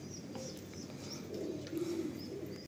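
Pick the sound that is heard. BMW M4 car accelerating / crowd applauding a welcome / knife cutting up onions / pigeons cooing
pigeons cooing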